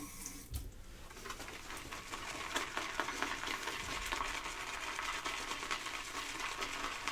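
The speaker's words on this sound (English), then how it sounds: "the friction it creates when the bristles run over those raised lines will help you generate lather quickly." A shaving brush whips lather in a bowl with raised lines inside, giving a steady, wet, swishing and stirring sound that stays fairly faint and continuous with no talk.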